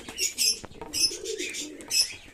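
Pigeons in a loft coo and chirp close by, three bursts of bright calls with soft low cooing beneath and a flutter of wings, repeating in a loose rhythm.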